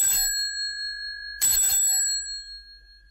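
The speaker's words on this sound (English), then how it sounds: "Then suddenly she ran across the road and rang Holmes's doorbell." Doorbell ringing twice, two bright electronic chimes about a second and a half apart, each sustaining and fading, clear and close with no voices.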